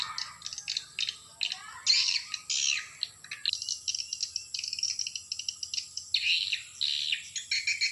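Dense chorus of swiftlets chirping and twittering inside a swiftlet house, rapid overlapping high calls continuing throughout, fairly close and steady with no talking.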